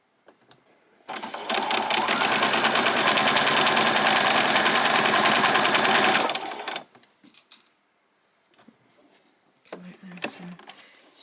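A sewing machine stitches a straight seam across the bottom of a pyjama top, a loud, steady mechanical whir lasting about five seconds before stopping, followed by quiet handling and a voice speaking near the end.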